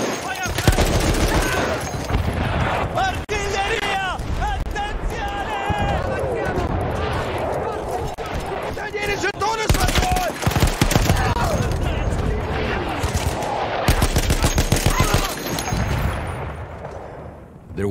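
Heavy gunfire and artillery crash through a Battlefield 1 battle, dense bursts of automatic fire and booming blasts layered almost continuously, with shouted voices mixed in among the explosions.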